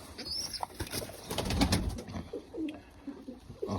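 Pigeons cooing at a dovecote in Boryspil, soft repeated coos mixed with rustling and faint wing flaps, fairly close, no talk.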